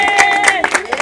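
Applause from a crowd at a Mr & Mrs pageant finals as the second runner-up is announced, a brief, dense patter of clapping close by over a sustained tonal background.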